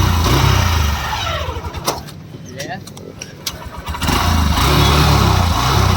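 Motorcycle engine revving nearby, loud throttle bursts at the start and end with a quieter idling stretch between, and a voice talking over it.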